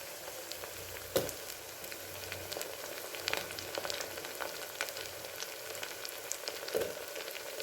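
Sliced onions fry in a pan toward a light golden brown, with a quiet, steady sizzle and a few faint pops and stirring scrapes.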